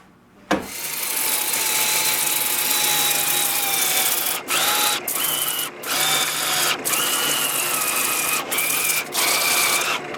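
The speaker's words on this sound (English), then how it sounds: "We'll get it in slow speed and do some sanding." A lathe whirs steadily at low speed with a sustained mechanical hum, broken by several brief dips and scraping bursts as sandpaper touches a spinning wooden salad bowl.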